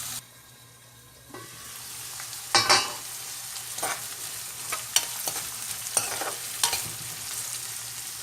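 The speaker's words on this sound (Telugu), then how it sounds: "సో ఇది ఫ్రై అవ్వనిద్దాం ఒక 5 minutes." Egg masala fries in a pan with a soft steady sizzle, broken by occasional sharper clicks and scrapes of stirring.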